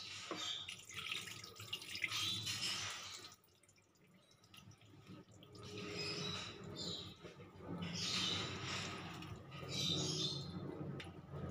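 A little water poured into a pan of vegetables for a dry chorchori, several short splashing pours and trickles close by, with a quieter pause between them.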